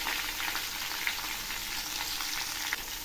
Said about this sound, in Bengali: এখন আমি এগুলি নেড়ে দিচ্ছি।